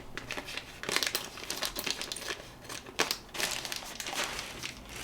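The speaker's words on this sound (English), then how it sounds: "So I can tear the page out if I like" Paper crinkles and tears as a perforated page is pulled from a sketchbook, a series of close, dry rips and rustles in bursts over several seconds, no voices.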